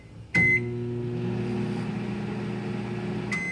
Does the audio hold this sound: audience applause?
no